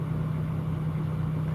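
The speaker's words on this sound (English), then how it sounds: "Someone just started up their straight pipe truck." A straight-piped truck idles nearby on a cold, icy day, a loud, steady low rumble with a constant droning throb and no breaks.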